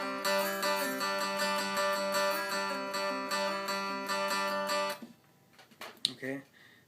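Guitar plays the intro riff of a song at full speed, a steady run of rhythmic picked notes that stops abruptly, followed by a few faint clicks and handling sounds.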